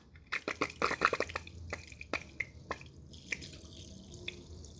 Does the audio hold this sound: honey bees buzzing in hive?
no